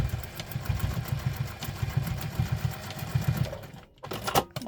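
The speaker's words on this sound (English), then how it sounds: "We're going to stitch across here with the seam allowance mentioned in the pattern" A sewing machine stitches across a folded wallet piece with a D-ring, running in a steady rapid pulse that pauses near the end and then resumes briefly. It is close and alone, with no talk.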